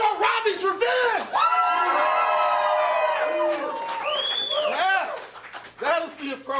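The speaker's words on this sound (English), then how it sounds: "Yes, that is the appropriate applause when you do not have to pay or tip for a dance like that." A live audience cheers after a dance performance, with loud, close whoops and shouted yells rising and falling over a crowd background.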